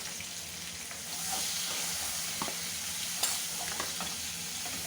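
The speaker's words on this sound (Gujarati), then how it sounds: "હવે આને થોડું આપણે સાંતળવા દઈશું।" Tomato and onion sautéing in oil with mustard seeds and asafoetida for poha, a continuous even sizzle that grows slightly louder after the first second, with occasional small pops and clicks and no voices.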